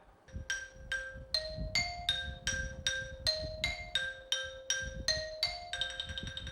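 Bright metallic notes from a marching bell lyre ring out one after another in a steady marching rhythm, each strike sharp and sustained, over faint low background noise.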